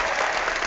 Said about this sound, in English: So if you can clap, go ahead and give us some claps.